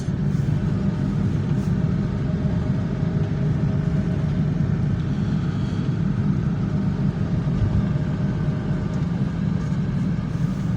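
Steady, low engine rumble of a car pulling away slowly on a village road, a constant drone with no speech.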